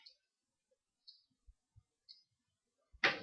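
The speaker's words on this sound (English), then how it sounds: "Just snip it through" Scissors snip through a two-tone yarn pom pom held on a nail frame: a few quiet, crisp, isolated snips spaced apart, then a louder burst of rustling cuts at the end.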